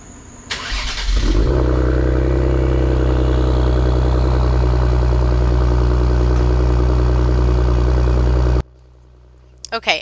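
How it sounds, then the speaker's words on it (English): A 2020 Ford Explorer ST with a new Thermal R&D 3-inch exhaust starts up and settles into a steady, deep exhaust rumble at idle for several seconds before it abruptly stops. "admire the sound of your new exhaust system"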